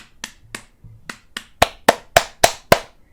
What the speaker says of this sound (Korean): 337 박수로 해드렸습니다 이렇게